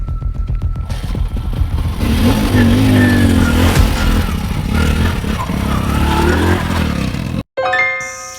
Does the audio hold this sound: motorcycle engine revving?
yes